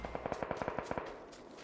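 A burst of automatic gunfire in the video game PUBG, about ten rapid evenly spaced shots that stop after about a second. The shots are quiet and sound somewhat distant, and a brief softer shot follows.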